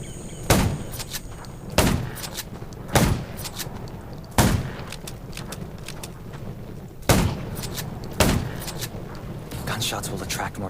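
Six loud, sharp gunshots ring out at irregular intervals, each a broadband crack with a short tail, over a steady background of game ambience in a zombie survival RPG.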